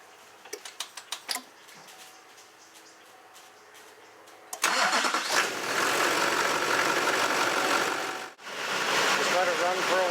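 A Duramax diesel engine is test-started after an oil change: a few clicks and ticks, then the starter catches and the engine fires into a loud, rough, steady idle that stumbles briefly before running on.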